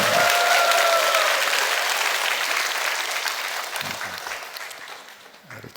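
A crowd in a church gathering claps and cheers loudly for the children, a dense burst of applause with a couple of whoops that gradually thins and fades toward the end.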